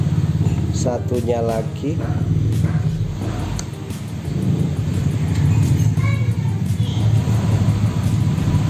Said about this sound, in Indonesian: Ini berisik ya, banyak mobil lewat, sorry.